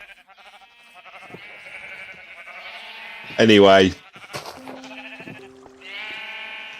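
A sheep in the Minecraft video game gives one loud, wavering bleat mid-clip against steady game background tones, with someone speaking briefly.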